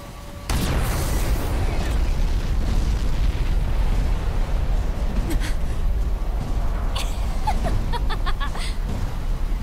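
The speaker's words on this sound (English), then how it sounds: "What was that explosion?" A sudden loud blast in the Xenoblade Chronicles X video game erupts into a sustained rumbling roar that fills the scene, with scattered crackling debris bursts on top.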